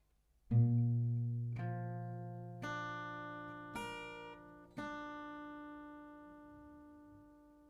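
Soft acoustic guitar notes picked one at a time in a slow, spaced pattern, each ringing out and decaying gently, quiet and alone.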